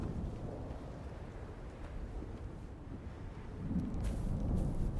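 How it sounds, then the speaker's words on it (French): A large sandstorm in the video game Dune: Awakening roars as a low, rumbling wind, a steady dense whoosh that swells and grows louder toward the end, with no talking over it. "weather alert. A large sandstorm is approaching."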